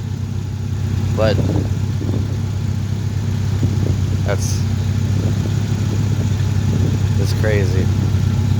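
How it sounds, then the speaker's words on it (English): A van and a second vehicle idle together nearby in a steady low rumble that stays constant throughout, while a person talks briefly over it. "I love both these vehicles. So been letting them run for a minute."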